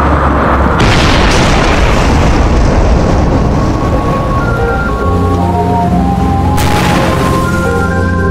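A heavy, deep boom of a naval shell hitting a warship's bridge, followed by a long rumbling roar, loud and dense, fading into a sustained low rumble with ringing tones layered over it.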